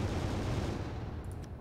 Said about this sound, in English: Kinetic guns here.